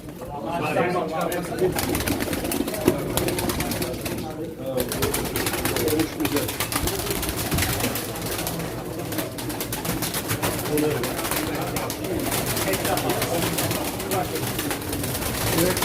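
Pigeons coo softly amid constant noisy background clatter and voices at a pigeon auction in Çorum, their low calls recurring throughout.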